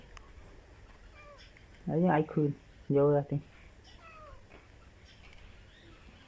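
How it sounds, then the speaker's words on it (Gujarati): A black cat meows twice in close succession, two loud cries standing out against quiet outdoor ambience on a farm after rain, with a faint voice speaking briefly around them. "હવે આ મીંદડું આખું કાળું છે."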